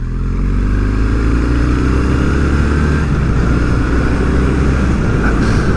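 A Kawasaki W800 Street motorcycle's engine runs loud and close with a deep, throaty low-end rumble, holding steady with slight swells in revs throughout, with no talking over it.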